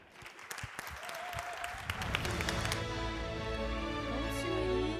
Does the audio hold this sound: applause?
yes